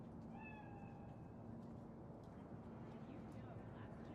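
A cat meows a few times in the video game Cyberpunk 2077, set in Night City, with short rising cries early on over a steady low background hum.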